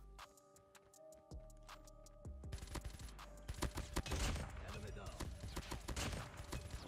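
Rapid bursts of tap-fired gunshots from a Diamond-camo Peacekeeper in Call of Duty Mobile, sharp cracks in quick irregular succession over busy game effects, growing denser and louder partway through.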